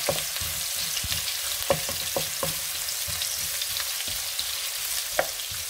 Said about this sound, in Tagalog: haluin lang natin ng ating luya